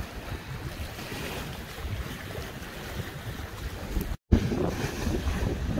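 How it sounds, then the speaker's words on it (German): Icy cold wind blowing hard along the coast of Thassos in early spring, roaring as a broad, gusting rush with heavy microphone buffeting, loud and continuous apart from one brief dropout. "Hier vorne ist ein Wind, das ist der Wahnsinn."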